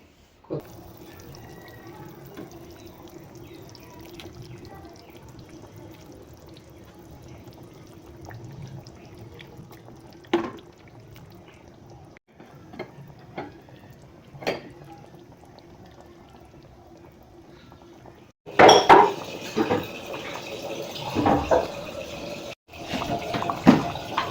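Pieces of chital fish go into a simmering fish kaliya gravy. Soft, steady bubbling gives way near the end to a sudden louder burst of sizzling and splashing close by.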